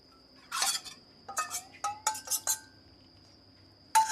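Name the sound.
metal on metal scraping while stirring beef stew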